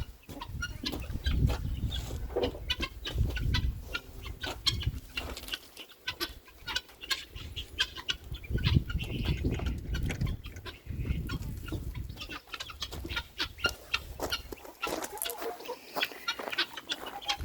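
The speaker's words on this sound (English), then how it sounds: "the guineas are around back here going to town on all the bugs" Guinea fowl foraging for bugs behind a dusty backyard coop in spring, giving off scattered clucks and calls amid rustling and scratching, fairly close and busy throughout with no talk.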